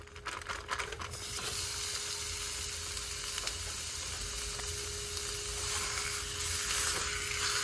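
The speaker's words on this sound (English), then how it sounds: "So you just want to brown your beef." Ground beef browns in a pan for a cheeseburger casserole: a burst of crackling at first settles into a continuous, even hiss of sizzling fat.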